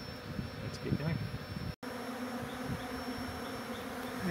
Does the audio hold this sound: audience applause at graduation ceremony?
no